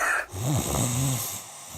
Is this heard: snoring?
yes